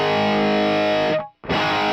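Electric guitar played with a distortion pedal engaged, giving a loud, thick, saturated sustained tone that cuts off abruptly for a fraction of a second before the crunchy distorted chords return.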